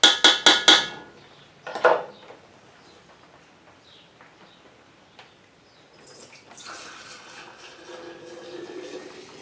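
Root beer moonshine poured through a funnel into mason jars: a few sharp glassy knocks at the start, then a quiet stretch before a steady, close trickling pour builds toward the end.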